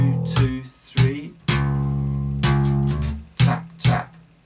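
Bass guitar played with double-tap and tap-pluck slap technique, a few punchy percussive notes and ringing sustained low tones in close, clean isolation.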